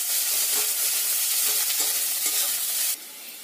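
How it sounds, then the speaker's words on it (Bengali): Chopped onions fry in a pan with a steady, close hiss and sizzle, broken by a few scraping stirs, the sizzle dropping quieter near the end. "পেঁয়াজগুলো দিয়ে ভালো করে ভাজা ভাজা করে নিতে হবে।"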